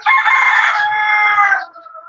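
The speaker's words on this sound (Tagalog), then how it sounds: "Paki-close na yung mic kasi mas maingay na yung manok nyo kaysa sa akin." A rooster crows once, loud and close, a long sustained call over about a second and a half that trails off at the end, heard during an online class.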